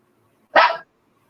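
A single short dog bark rings out once, fairly close and clear, against an otherwise quiet background.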